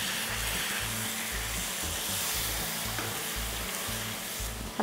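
A pan of tomatoes sizzles steadily with a constant hiss and bubbling, with a rhythmic low pulse underneath, close and uninterrupted.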